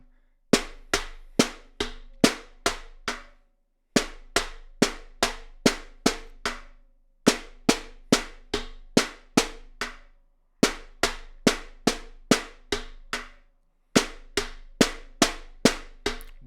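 A caixa snare drum plays a partido alto samba groove alone, sharp bright strokes falling in repeating syncopated phrases of about seven hits, with short pauses between cycles, close and clear.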